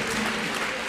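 Church congregation clapping in applause during a worship service, a steady dense wash of hands beating together up close, with a low sustained tone underneath and no clear speech.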